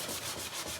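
Sandpaper rubs back and forth in a steady, close rasp, a continuous scraping with a slight rhythmic pulse of strokes.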